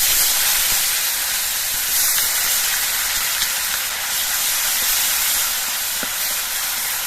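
Loud, continuous hissing sizzle of onion paste frying in hot oil, steady and close throughout with no talking.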